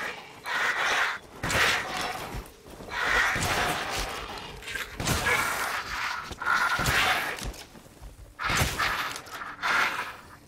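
Horses in a video game, Resident Evil Village, whinny and snort in loud, repeated bursts with thuds and movement between them, a busy, close stretch of animal calls.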